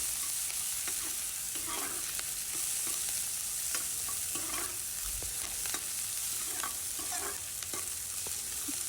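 Onions frying in a pan and being stirred for a homemade fish curry: a steady close sizzle with repeated scraping stirs and small clunks, no voices.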